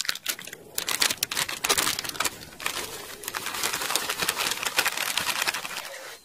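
Dry fishing groundbait for carp and crucian carp pours and rustles out of a crinkling plastic bag in bursts of grainy hiss and crackle, close by, with a brief pause midway before resuming.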